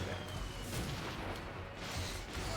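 Dull booming mortar and artillery-like fire rolls through inFamous 2 game action, a steady dense barrage of muffled blasts with faint talk mixed underneath.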